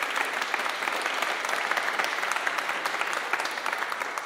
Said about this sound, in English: So just a quick round of applause for our next generation of advocates joining us this morning.